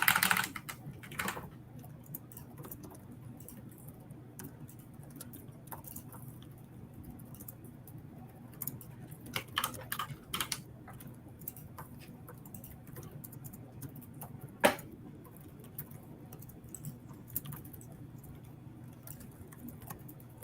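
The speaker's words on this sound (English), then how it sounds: "Love all the keyboard sounds." Keys clatter on a computer keyboard in quick, irregular bursts of soft ticks and taps, close and fairly quiet, with a few sharper clicks standing out over a low background hum.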